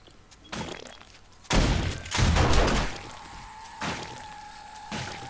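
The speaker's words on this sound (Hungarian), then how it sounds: "az a jó a turretekben, hogy sokkal pontosabb lőnek, mint én" Turret gunfire in the 7 Days to Die video game, bursts of loud, close shots in separate volleys, the heaviest in the middle, with an electronic tone lingering afterward.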